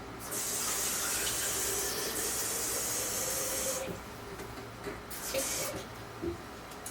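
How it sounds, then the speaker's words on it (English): Tap water running hard into a quart-sized jar while half a cup is caught for a kosher dill pickle brine, a loud steady hissing gush that cuts off partway, leaving quieter clinks and handling sounds. "I'm going to catch a half a cup of water in here."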